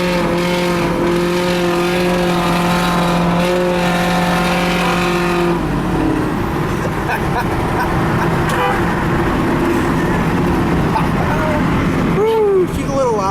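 A loud car engine idles and revs with a cackling, popping exhaust through an 8-inch tip. The engine note drops and builds again, with people talking over it.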